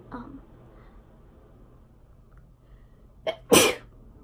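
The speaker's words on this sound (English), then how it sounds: "I just switched to another clip because I had to sneeze" A single close, sharp sneeze, preceded by a brief sharp intake, bursts out after a few seconds of quiet room tone, loud against an otherwise near-silent background.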